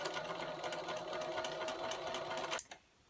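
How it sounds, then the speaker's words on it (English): A sewing machine stitches a half-inch seam through pinned cotton pillow squares, a fast steady mechanical whir close by for nearly three seconds before stopping abruptly. "under the presser foot and sew a 1/2-inch seam allowance"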